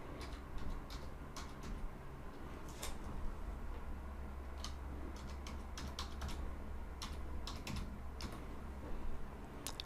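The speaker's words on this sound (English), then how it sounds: "now here's where I can type in my email" Steady, soft clicking of fingers typing an email address on a computer keyboard, a close run of quick keystrokes over a low background hum with no talking.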